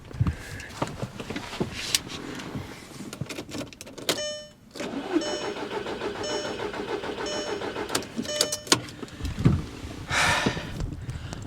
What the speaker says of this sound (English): I know you guys are just dying to hear a cold startup